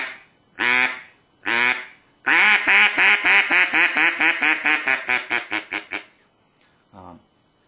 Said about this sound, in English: we're just going to try to elongate the first quack to make it sound a little bit louder and to get the attention of the ducks